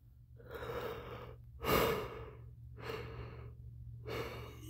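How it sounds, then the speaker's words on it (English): A person yawns and breathes out in slow, airy waves, several drawn-out breaths close to the mic in a quiet room, one louder gasping swell near the middle. "that's the first time I've properly yawned without starting a coughing fit"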